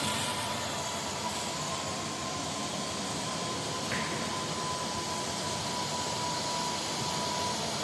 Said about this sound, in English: Once the drone is armed, all 4 motors are running.